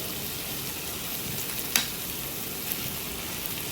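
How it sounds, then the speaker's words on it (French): Onions caramelizing in a pan give a steady, fairly loud broadband sizzle throughout, with a brief clink or scrape near the middle and another softer one later; no voices. "Les oignons. Donc là, ça commence à caraméliser."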